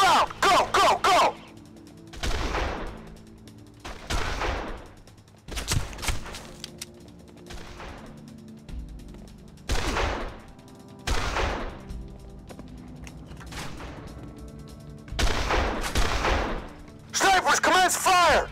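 Gunfire bursts from the mafia game Made Man on PC erupt in loud repeated clusters across a battlefield scene, alternating with shouted commands and radio-style voices in between.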